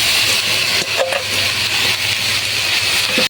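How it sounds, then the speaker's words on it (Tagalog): Grated coconut being mixed and stirred in a pan for bukayo, a continuous close sizzling hiss with soft scraping of the spoon and a low steady hum underneath, no talking. "ilalagay na natin yung ating kinayod na niyog. Pagsasamahin na natin ito at hahaluin."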